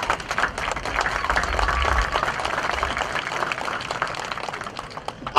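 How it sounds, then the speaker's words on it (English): Sustained, dense applause from a concert audience at an outdoor school spring concert in a stadium, steady and loud for several seconds, then tapering off before a brief final burst. "Give a big round of applause for flute section"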